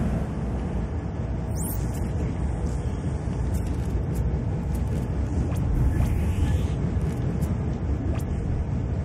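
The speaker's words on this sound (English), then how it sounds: "Windy." Steady howling wind in the video game Dead Space 3, a constant low rushing roar with faint high clicks and game sounds over it, with no voices.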